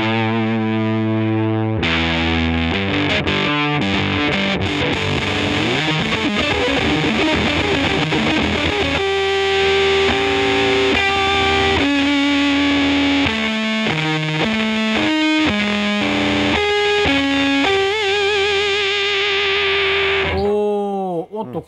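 An electric guitar played through a rare, older EarthQuaker Devices Sound Shank pedal gives loud, heavily fuzzed and filtered tones. Choppy riffs and sustained notes are shaped by swooping, wah-like sweeps, ending in a pitch-bending wobble.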